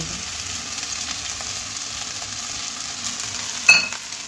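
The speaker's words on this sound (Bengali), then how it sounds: "ভালোভাবে কড়া থেকে নেড়ে দেবো" Fried rice with cashews and raisins sizzles quietly in a kadai as it is stirred, a low steady hiss with a single sharp scrape or clank near the end.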